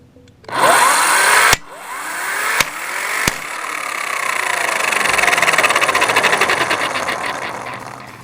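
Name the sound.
12V electric impact wrench loosening a lug nut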